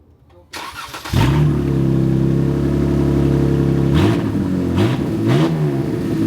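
A Jeep Grand Cherokee WK2 with its exhaust removed starts up with a crank and a loud, raw catch, then settles into a rough, throaty idle. A few sharp blips of the throttle follow, close and loud.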